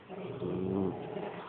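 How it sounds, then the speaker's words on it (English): A pet dog gives a low, rumbling growl lasting just over a second, close and fairly steady in pitch, with no talking over it. "You're dying to growl, aren't you?"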